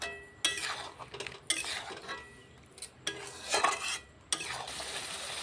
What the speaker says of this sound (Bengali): দইটা দিয়েও আমি 5 মিনিট ভালো করে কষিয়ে নেবো পটলের সঙ্গে।